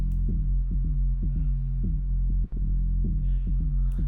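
A deep, throbbing drum and bass sub bass synth, made in Vital, pulses in a steady rhythm, with buzzy, metallic frequency-modulated overtones wobbling on top of each note.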